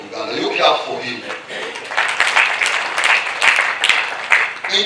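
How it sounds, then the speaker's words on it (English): Audience at a district council tribute ceremony for a late police chief clapping in a sustained round of applause, fairly close, with a voice talking over it. "You clap for him."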